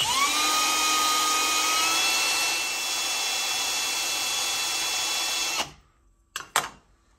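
A power tool spins steadily at low speed, scuffing the side of an RC car tire, its whine holding for about five and a half seconds before cutting off, followed by a couple of brief handling knocks.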